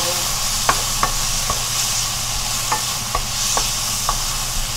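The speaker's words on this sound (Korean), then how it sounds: "고추랑 마늘 먼저 볶아서 비워놓고" Steady sizzling of shishito peppers and garlic stir-frying in a hot pan, with several sharp clanks of a spatula stirring and scraping at irregular intervals.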